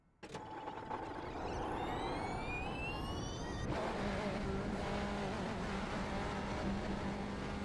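BMW GTP race car in the iRacing sim at Daytona, its engine revving up through rising gears with a clear shift, then holding a loud steady high-rpm drone from start to finish.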